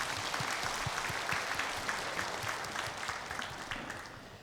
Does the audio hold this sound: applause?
yes